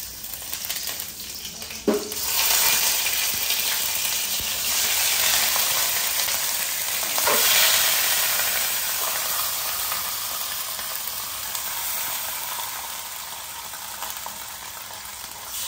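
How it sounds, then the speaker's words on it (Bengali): Steady loud sizzling of marinated chicken frying in a hot pan, with a couple of sharper crackles early on, continuous throughout with no talking. "চিকেনটা থাক, এই চিকেনটাকে একটু ভাজা ভাজা করে নিই হালকা করে"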